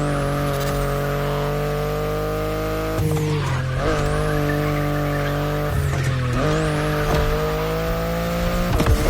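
BMW i8 driving in The Crew Motorfest racing game, a loud steady engine drone with repeated tire squeals and skids as it shifts and corners, continuous with no talk.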